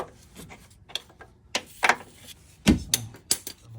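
A ratchet with a deep socket works 17 mm transmission mount bolts on an 8th-gen Honda Civic Si, giving a string of irregular metallic clicks and clunks, close by and with no speech.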